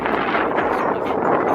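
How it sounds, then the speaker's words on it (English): Strong outdoor wind buffets the microphone in a steady, loud, low rumble with no other sounds standing out. "it's so windy out here"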